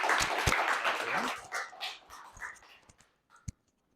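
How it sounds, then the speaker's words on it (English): A small conference audience gives a brief round of applause for a speaker, the clapping fading out within a couple of seconds, followed by scattered thumps and light handling noise. "please give me a nice round of applause for our speaker"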